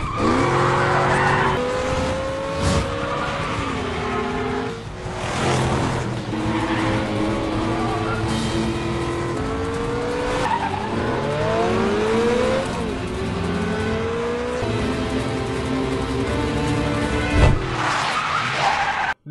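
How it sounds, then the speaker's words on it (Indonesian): A film car chase: engines rev hard and tires squeal again and again in a loud, continuous, close-up stretch with no talk, the roar rising and falling as the cars swerve. "Aksi kejar-kejaran mobil ditampilkan di sini."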